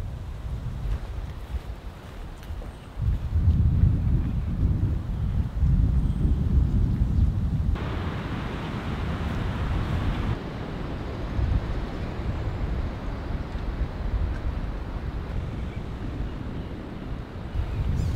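Strong wind buffets a campsite beside a rare military tent, a continuous rushing roar with gusty surges that swell louder midway before easing to a steady blow, with no talk.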